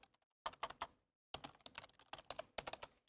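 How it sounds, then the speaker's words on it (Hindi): Fingers type on a computer keyboard in quick bursts of close, crisp key clicks separated by short pauses, with no voices. "उसके बाद लेट्स स्टार्ट टाइपिंग"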